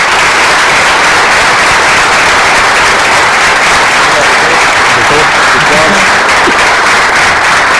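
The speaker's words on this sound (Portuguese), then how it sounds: "Uma grande salva de palmas para Pedro Passos Coelho." A loud, sustained ovation from a large audience in Bragança for Pedro Passos Coelho, the dense wash of clapping holding steady and unbroken throughout, with a murmur of voices beneath it.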